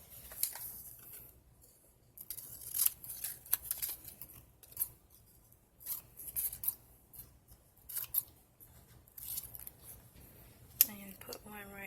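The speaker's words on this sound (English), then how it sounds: "Cut out 2 of these little squares from this other page." Scissors snip small squares from a paper page while assembling a collage glue book, a series of short crisp cuts in uneven bursts, close and fairly quiet, with occasional soft paper rustling.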